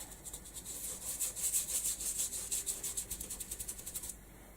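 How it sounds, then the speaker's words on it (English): Stipple brush dabbing paint onto corrugated card, a quick run of soft, rhythmic bristly scrubs and pats, close and fairly quiet, stopping abruptly near the end. "I'm using a stipple brush, you know, my stipple brush, because it gets into the nooks and crannies of the corrugated card"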